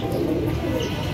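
Pigeons cooing in a loft during a 45° heatwave, with Musallam and Chila males present; low, throaty coos are heard close by, steady and continuous over a soft background hum, with no speech.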